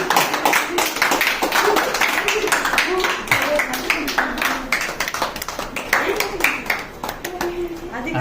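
Fans at a birthday cake cutting for Chiranjeevi clap rapidly and continuously, a dense run of sharp nearby claps mixed with voices talking and cheering throughout.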